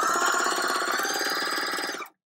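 A sewing machine stitches pillow fabric in a fast, even mechanical rattle. It runs steadily up close, then stops abruptly.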